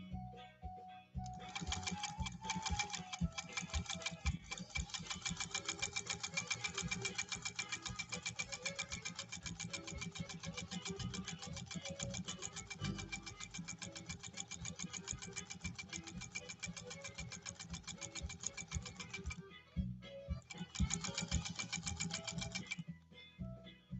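Vintage PFAFF 130-6 or Singer 201-2 sewing machine stitching at speed, a rapid, steady mechanical whir and needle clatter running close and continuous for about eighteen seconds, pausing briefly, then resuming in shorter bursts.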